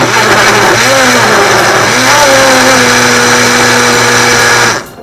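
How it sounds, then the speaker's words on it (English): A blender whirs loudly and steadily for several seconds, blending jalapeno and olive oil, its motor pitch shifting slightly as it churns, then cuts off abruptly at the end. "Let's give it a blend."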